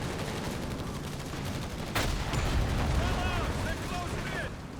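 Battlefield gunfire during an aircraft strafing run in the real-time strategy game Company of Heroes 3: a dense, continuous rumble of shots and impacts with a sharp crack partway through, a commentator talking over it.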